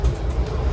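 Ciremai passenger train rumbling through Maswati station, a steady low rolling drone close by with no distinct wheel clacks.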